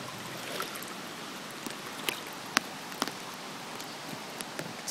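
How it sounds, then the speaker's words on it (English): Floodwater from Hurricane Irene rushing past outdoors in Long Valley, NJ, near a bridge on Middle Valley Road: a steady broadband wash of flowing water with a few sharp drips and splashes, no talking. "Water goes over the bridge over there on Middle Valley Road."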